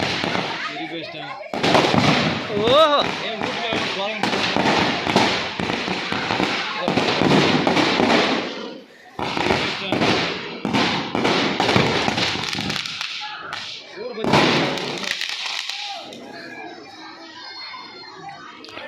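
Firecrackers go off in a long, dense crackling barrage of rapid bangs and pops, broken by brief pauses and then renewed bursts, with scattered crackles fading at the end and a short exclamation from a person.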